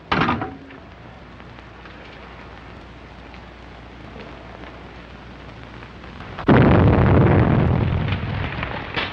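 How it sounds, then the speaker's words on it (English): Explosion sound effect in an old-time crime radio drama set at a house on Madeira Drive: a brief burst at the start, a low rumble, then a loud roaring blast with crackling debris that slowly fades. "Explosion in 93 Madeira Drive."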